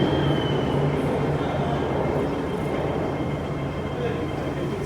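An MTR metro train rumbles at Tai Koo station in Hong Kong, a steady loud rolling drone with a faint high whine, continuous from start to end.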